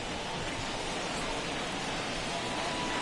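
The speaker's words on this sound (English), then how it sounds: "Well, that rain is really coming down right now." Heavy rain pouring down steadily at a baseball game, a dense, even hiss of close downpour with no breaks across the whole stretch.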